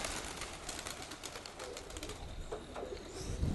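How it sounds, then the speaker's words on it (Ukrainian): A domestic pigeon coos softly and flaps its wings while coming in to land, close by, with brief bursts of wingbeats near the end and no talking. "Гарний, гарний голубок"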